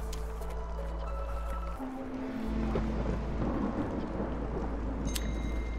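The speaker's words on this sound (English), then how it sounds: "Ooh, the storm." Thunder and rain from a storm in the video game Against the Storm: a low, steady rumble of thunder builds under a continuous rain hiss, with a soft tonal game chime over it.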